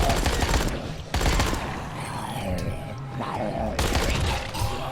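Rapid bursts of submachine gun fire from the Dying Light: The Following video game, two loud volleys separated by quieter stretches with in-game sounds and faint voices underneath.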